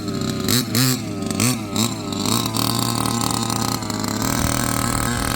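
A Baja Street 2 Speed minibike's small engine revs loud and close, rising and falling through several throttle blips before settling into a steady buzzing drone.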